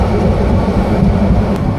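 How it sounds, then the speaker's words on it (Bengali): The Parjatak Express train on the Dhaka to Cox's Bazar line rolls slowly through forest, a loud, continuous low rumble and rattle heard from on board, steady without breaks. "এই কারণে আমাদের ট্রেনের গতি অনেক স্লো হয়ে গেছে"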